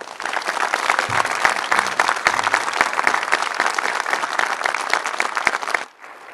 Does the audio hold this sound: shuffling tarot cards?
no